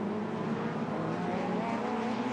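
Honda race cars scream through the Dipper at Hampton Downs circuit, a dense, steady high-revving engine wail at close range with no break in the sound.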